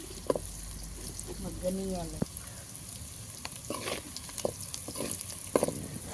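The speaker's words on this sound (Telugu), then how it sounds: "ఒకసారి ఫ్రై చేసుకోవాలి కలుపుకోవాలి కొద్దిగా కలర్ వచ్చేది కొద్దిగా కలర్ వచ్చేదాకా కలుపుకోవాలి" Onions sizzle in a pan as a spoon stirs them, with a soft steady frying hiss, scraping clicks and clinks, and a voice talking over the cooking.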